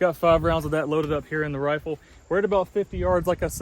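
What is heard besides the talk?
No everyday noise stands out behind the speech.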